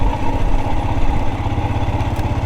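Royal Enfield Himalayan motorcycle engine idling steadily nearby, a continuous low throbbing rumble with mechanical clatter, in hailstorm weather off-road, with no voices.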